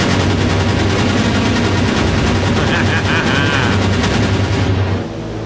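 An AC-130 gunship's 20mm cannon fires in a naval combat game, a loud, dense stream of rapid rounds rattling on continuously over engine drone before the burst cuts off abruptly.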